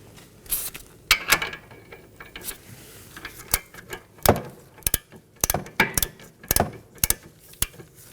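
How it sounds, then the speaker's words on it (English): A torque wrench ratchets and clicks as strut assembly nuts are tightened to 62 foot-pounds on a 2015-2023 Nissan Maxima front strut. Sharp, close metallic clicks and ratcheting bursts come in irregular clusters, with no talk. "Now let's go ahead and torque these down to 62 foot-pounds."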